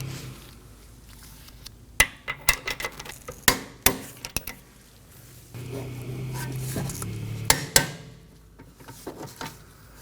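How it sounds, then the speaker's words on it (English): A torque wrench tightens the rear caliper bracket bolts on a 2015-2023 Nissan Maxima during a brake job, giving a series of sharp, close metallic clicks and ticks over quiet shop background. "Now let's torque our caliper bracket down to 62 foot-pounds."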